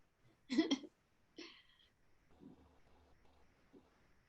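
Dog hiccuping indoors, a couple of sharp, close hiccup bursts near the start followed by softer, fainter breathy hiccups trailing off in a quiet room.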